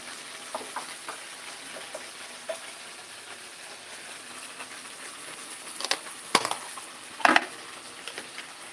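Okra sautéing in a pan, a soft steady sizzle under scattered light scrapes and taps of stirring, with a few louder clacks of the utensil against the pan near the end.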